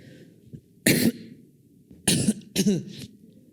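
Three sharp, loud coughs, the last two close together, breaking a quiet room tone.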